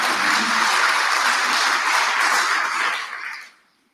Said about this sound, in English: One last good round of applause